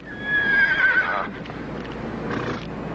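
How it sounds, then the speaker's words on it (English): A horse gives a high, shrill whinny that fades out, followed by softer snorting and shuffling with faint hoof sounds, heard up close without speech. "If this horse were a blood relative of Whirlaway, he would be worth millions"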